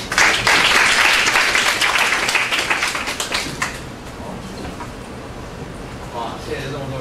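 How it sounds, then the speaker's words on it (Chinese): A room full of attendees at the COSCUP 2019 open-source conference applauds to welcome a speaker before a Golang talk. The clapping starts loud and dense, then thins out and fades over several seconds as the room quiets. "让我们掌声欢迎李许"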